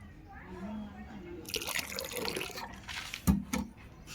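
Half a tea glass of hypo bleach poured into about three litres of hot water: a splashing, trickling pour starts partway through and swells with a few louder splashes near the end, after a quiet murmur of voice.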